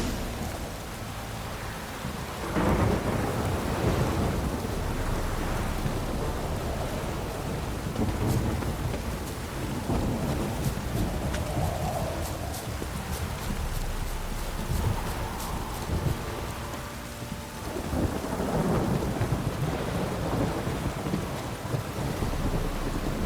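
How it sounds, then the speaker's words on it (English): Heavy rain pours steadily in The Witcher 3 video game, with rolls of thunder rumbling through the downpour; it stays dense and continuous throughout, with no speech. "This downpour's a bastard"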